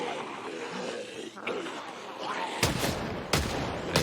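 Gunfire in Project Zomboid, three loud sharp shots spaced about a second apart near the end, following a stretch of murmuring voices and background noise.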